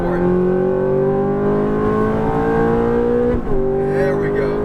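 A Ferrari F430 engine accelerating hard on a race track: a loud, steady, rising engine drone held close, broken by a quick dip and recovery near the end as the revs shift.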